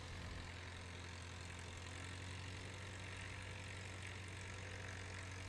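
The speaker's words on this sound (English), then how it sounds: "There's definitely something different about that engine. Yeah. Just at rest." A Super Cub light aircraft engine idles at rest at a STOL competition practice at an airport, a steady low rumbling drone that holds constant throughout with no voices.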